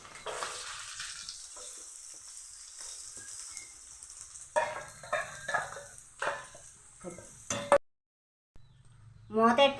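Karonda pieces and raw prawns fry in a pan with a steady, hissing sizzle, then stirring clatter as a voice talks over it. A brief silence follows before the sizzling returns.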